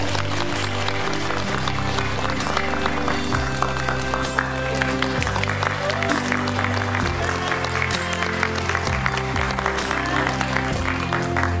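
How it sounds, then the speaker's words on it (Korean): A packed CGV cinema audience in Yongsan applauds the director and cast of the film Hijack 1971 at a stage greeting. Sustained crowd clapping runs over loud background music for more than ten seconds. "큰 박수 부탁드립니다"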